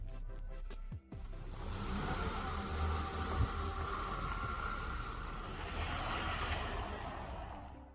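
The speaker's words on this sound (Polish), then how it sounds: "trójkołowy samochód nadal jeździ dobrze" A homemade three-wheeled car drives past with a steady, loud engine drone and broad road rumble, holding continuously after a brief dip near the start.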